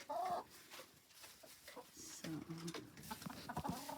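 Chickens cluck in a walk-in chicken run built from pallets, a few short bursts of calls scattered among a person's speech and quieter pauses.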